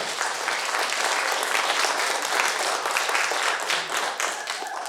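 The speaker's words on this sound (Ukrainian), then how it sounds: "Оплески, народний депутат." A stand-up comedy improv audience bursts into loud, dense, sustained applause that fills the room for several seconds, with the clapping thinning slightly toward the end.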